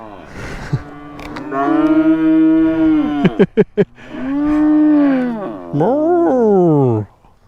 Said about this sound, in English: all the cows just came down from the hill to see me